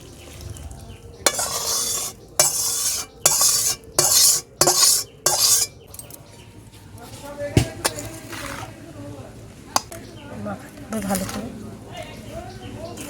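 Raw green mango pickle being mixed by hand with vinegar, sugar powder and black salt in a bowl: a run of loud, rhythmic squelching and scraping strokes, then quieter stirring while someone talks.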